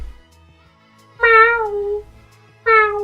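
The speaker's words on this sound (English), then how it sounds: "He meowed back at me." A cat meows twice up close, two loud, drawn-out cries separated by a short pause, against a quiet low hum.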